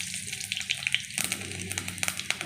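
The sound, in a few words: five-spice seeds (panch phoron) sizzling in oil used for frying fritters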